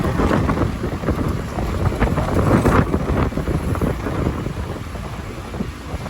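Steady wind roars across the microphone while riding a vehicle along a road toward an organic vegetable market, a loud continuous rushing gust that swells briefly and then settles.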